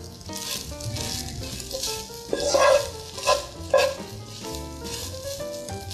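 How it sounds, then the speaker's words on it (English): Vegan brunch food frying in a pan over a medium flame gives a steady hiss and crackle that swells a few times, partly masked by background music. "going to let this cook on this side for about 5 minutes on a medium flame"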